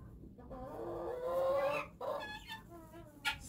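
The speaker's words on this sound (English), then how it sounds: "So there's our pretty hen." A hen gives a drawn-out, throaty cluck followed by a few shorter clucks, close by and fairly quiet.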